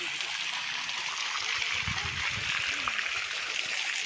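Water flowing at Devjhar waterfall in a forest, a constant rushing hiss with some splashing, close by, with low sounds of people nearby at times.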